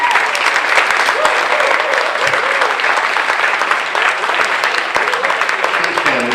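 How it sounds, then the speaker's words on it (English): An audience at a celebration for an Italian exchange gives a sustained, dense round of applause for the Italian chaperones, steady and loud for several seconds with a faint voice or two in the crowd. "Please give them a round of applause."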